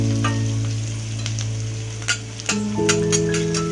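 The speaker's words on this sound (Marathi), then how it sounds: "जास्त कांदा भाजायचा नाही, थोडासा मऊ झाला पाहिजे." Chopped onion with green chilli sautéed in a tempered oil pan for a chicken crispy dish, a steady close sizzle with stirring scrapes and a few light clinks, no talking.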